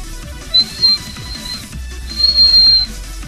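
A thin, high-pitched whistle from a rebuildable vape atomizer sounds in two drawn-out stretches, steady and fairly faint, over a low rumbling background.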